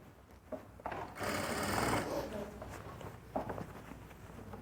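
Sewing machine stitching fabric for a winter dress in a tailoring class, a rapid mechanical whir that runs for about a second and then tapers off, with faint handling noise around it.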